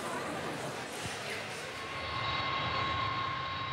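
An airliner at an airport prepares for departure with a steady engine roar and a high whine that settles into a sustained tone, with voices faintly mixed in.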